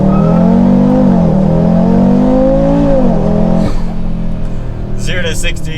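An Audi RS3 with a full aftermarket exhaust, launch control engaged and traction control off, pulls hard from a standstill. A loud, close, droning engine note climbs and shifts pitch, drops briefly as if at a gear change, then resumes.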